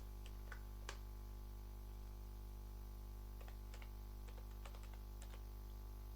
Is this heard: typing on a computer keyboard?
yes